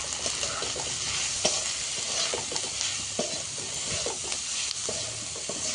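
Spiced dried fish with onion and garlic stirred in a pan, a steady sizzle with repeated scraping knocks of the spoon at an irregular rhythm, close and fairly loud.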